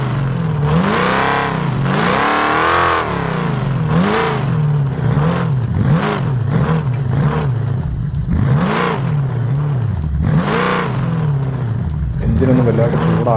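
Off-road vehicle engine in BeamNG Drive revving hard in low gear on a climb, with repeated rising and falling revs in waves, loud and close throughout, and someone talking over parts of it.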